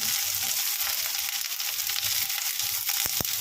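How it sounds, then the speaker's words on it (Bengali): Chopped vegetables being lightly sautéed in a pan, kept crunchy, with a loud continuous sizzle and a couple of sharp stirring clicks near the end, no talking. "একদম ক্রাঞ্চি রেখে সটে করে নেব। একদম গলানোর দরকার নেই, শুধু হালকা ভেজে নেব।"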